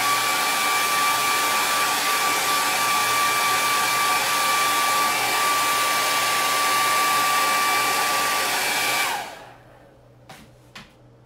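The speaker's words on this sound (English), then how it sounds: "I'm gonna go back with my blow dryer." A hair dryer blows at a steady, loud whine with a constant hum for about nine seconds close by, then cuts off abruptly, leaving quiet room tone with a couple of small clicks; outdoors while painting a cross on a hill.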